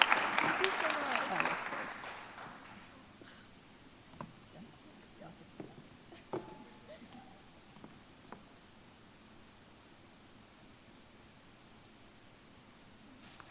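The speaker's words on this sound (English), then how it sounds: "Please join me in a huge round of applause for Maisie Ryan." Audience applause at a high school awards ceremony, a burst of clapping in the first two seconds that quickly thins to scattered claps, footsteps and rustling in a quiet hall.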